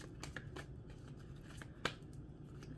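Tarot cards being shuffled by hand during a reading, a steady papery riffling and flicking with soft repeated slaps and one sharper snap near the end, close and fairly quiet.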